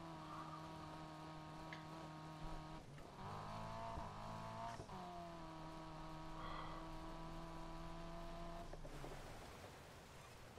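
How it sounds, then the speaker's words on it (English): A car engine revs and holds steady tones with sharp gear shifts in the racing game Need for Speed Heat, loud and continuous throughout with no talk. "All I can hear is my car revving in my ears"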